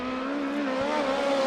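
A USAC midget race car runs alone on the Arizona Speedway oval, its engine holding a steady, loud, high-pitched drone with a slight rise in pitch partway through.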